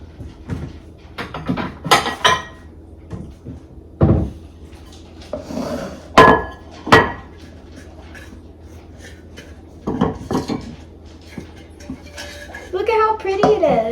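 Dishes clink and knock as a slice of banana bread is set on a plate, with scattered sharp clatters and thuds from plates, utensils and a cupboard, while a person speaks at times.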